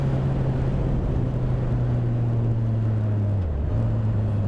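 A Suzuki Gixxer 750 motorcycle engine cruises in third gear at about 4,700 rpm and 45 mph, a loud, steady, even drone that dips briefly in pitch near the end, with no voices.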